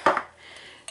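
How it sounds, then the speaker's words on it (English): A hammer strikes the sharp rim of an opened tuna can to flatten it, giving a couple of close, bright metallic clanks followed by a faint ringing tail and a small tap at the end. "So I just take a hammer or something and hammer that"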